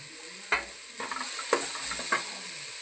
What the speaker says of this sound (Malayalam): അതിലേക്ക് മല്ലിയിലയും കരിവേപ്പിലും ഇട്ട് കൊടുക്കാം